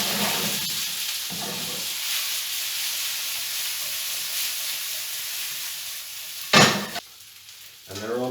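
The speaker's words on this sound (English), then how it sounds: "And I'll just turn them in the pan." Potatoes fry in a pan with a constant hiss and sizzle, then a sudden louder clatter and scrape as they are turned before the frying settles again.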